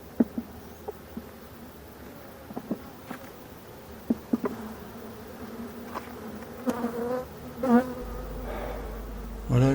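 Worker bees in a queenless hive give a faint, restless buzz close by, broken by scattered clicks and taps, with the droning growing louder toward the end.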